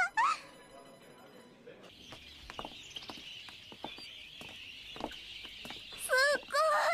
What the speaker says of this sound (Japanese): 鳥さんたちがいっぱいいるところだよ